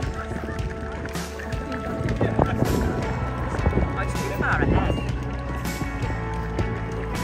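Clydesdale and Shire heavy horses leaving a show arena, heavy hoof clops scattered through a busy outdoor scene with crowd murmur and a voice over a loudspeaker.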